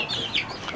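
Russian breed hens give a brief, soft cluck or two, close by against a faint farmyard background.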